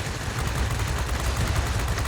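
Rapid aircraft machine-gun fire from a fighter plane in World of Warplanes, a dense, continuous rattling burst at close range lasting the whole moment with no talk over it.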